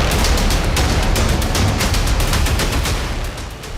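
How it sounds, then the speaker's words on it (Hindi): Rapid, loud gunfire from three shooters firing indiscriminately at close range, a dense burst of repeated shots that runs continuously before easing slightly at the end. "उस दिन उनके सामने 3 गुमनाम शूटर खड़े थे जिन्होंने अंधाधुंध गोलियां बरसा दी"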